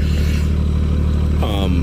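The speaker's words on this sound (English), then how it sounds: "As you guys can hear the engine of this bus roaring right now," A bus engine roars loudly and steadily throughout, a deep continuous rumble that fills the background, with a brief tonal whine rising near the end.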